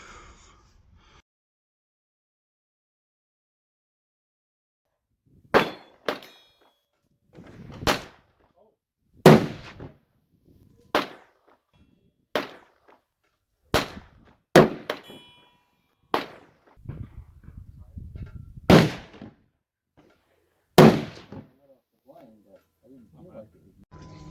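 A Winchester Model 70 Super Grade rifle in .340 Weatherby fires 250-grain Accubond rounds, about ten sharp, loud, close reports spaced a couple of seconds apart. Low talk fills some of the gaps between shots.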